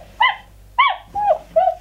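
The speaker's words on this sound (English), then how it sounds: "I could touch her ear and she barks" A Club Petz Lucy interactive toy dog lets out four short electronic barks when its ear is touched, evenly spaced, clear and close against a quiet background.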